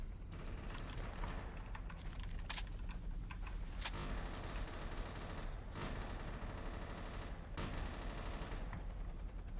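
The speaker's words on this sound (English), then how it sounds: "That helicopter is shooting at something." Helicopter gunfire in the video game STALKER, a steady rattle of rapid automatic shots with a few sharper cracks standing out, continuous and moderately loud with no talking.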